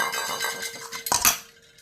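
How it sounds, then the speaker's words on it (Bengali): Peas and small diced potatoes dropped into a pressure cooker holding water clatter against the metal pot, with a sharper clank near the end. "এবার আমি মটরগুলো কুকারে দিয়ে দেবো।"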